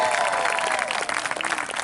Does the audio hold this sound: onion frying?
no